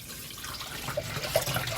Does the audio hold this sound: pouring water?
yes